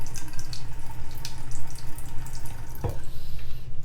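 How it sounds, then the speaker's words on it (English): Stream of water poured onto a corner of waterproof-coated fabric, with liquid vinyl coating on bag-making material; steady close splashing and trickling runs throughout, with a brief louder knock partway through. "So now let's do this other corner with the stream of water."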